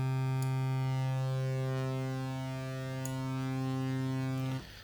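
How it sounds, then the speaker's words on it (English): Korg MS-20-V synth oscillators stacked with many unison voices, a steady rich sustained drone holding for several seconds before cutting off abruptly, alone without talk. "If you crank up the Unison value even further, you're just going to get more and more voices being piled in"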